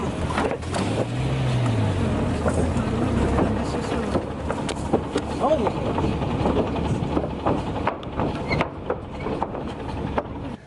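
A slow riverboat travelling from Thailand to Laos drones with a steady low engine rumble throughout, mixed with water wash, clatter and people talking nearby.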